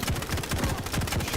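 Rapid machine gun fire in a video game duel, a steady stream of closely spaced shots with a punchy low thump on each round, loud and continuous throughout.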